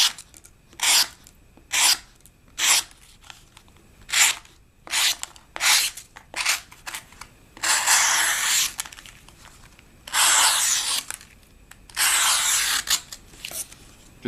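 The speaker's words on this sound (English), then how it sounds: "Alright, now to cut some cardboard." Benchmade Mini Griptilian knife slicing through cardboard: a run of short, crisp scraping strokes followed by three longer, loud tearing cuts, close up with no talking.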